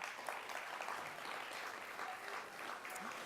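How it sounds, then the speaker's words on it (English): Faint, distant applause from a gala celebration crowd, a continuous soft wash of clapping at low volume without clear individual hands. "So let us give a hearty round of applause to"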